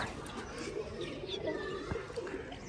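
Pigeons coo softly on a rooftop while a pigeon is being caught, the low murmuring calls steady and moderately near, with faint background noise and no clear talk.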